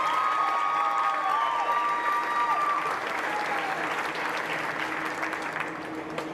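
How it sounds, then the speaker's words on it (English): Sustained applause from a crowd at a county fair supreme showmanship contest, steady clapping at moderate distance that fades slightly toward the end. "Give him a big round of applause."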